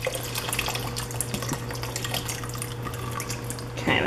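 Stock pours steadily into a cooking pot, a continuous close liquid splashing and trickling over a low hum, ending with a brief louder burst.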